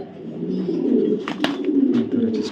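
Pair of milk-white racing pigeons cooing continuously in low, rolling murmurs, close by, with soft rustling and a brief click.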